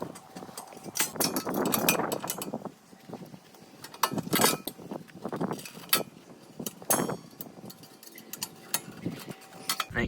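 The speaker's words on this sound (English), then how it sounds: "you're going to need your spring puller, and go ahead and take all your springs off" Metal exhaust springs on a Can-Am X3 being pulled off with a spring puller, giving scattered metallic clinks, scrapes and springy twangs in irregular bursts, close up with quiet gaps between.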